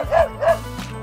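Two quick, bright dog barks ring out one after the other in a children's counting song, sounding close and cartoon-like over a steady musical backing.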